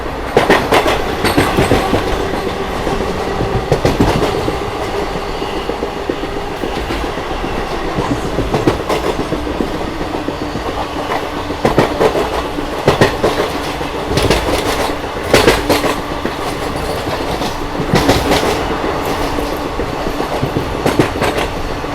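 Tirupati–Puri Express train running with a steady loud rumble and repeated clickety-clack of wheels over rail joints, continuous throughout with no voices.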